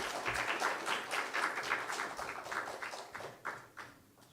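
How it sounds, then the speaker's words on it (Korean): Scattered, fairly faint applause from a small church congregation welcoming a speaker, individual claps audible, fading toward the end. "우리 박수로 모시도록 하겠습니다"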